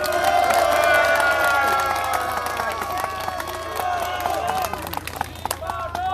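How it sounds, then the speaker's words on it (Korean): Crowd at a memorial ceremony at a national cemetery claps and cheers, a dense burst of applause that tapers off, with a voice over a PA carrying through it. "박수 한번 부탁드리겠습니다"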